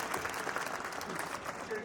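Applause from an audience at a court felicitation ceremony, a steady wash of clapping filling the whole stretch with background murmur and talk mixed in.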